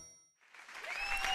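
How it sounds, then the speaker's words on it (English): Cartoon animals cheer for the fire trucks, a brief burst of bright crowd cheering and clapping that swells in from silence and grows louder. "All of the animals cheer for the fire trucks"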